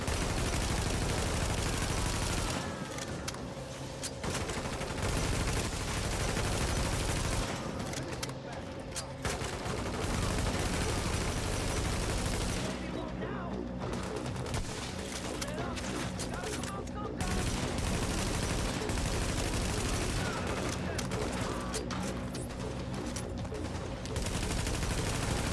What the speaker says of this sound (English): Somebody's shooting around corners.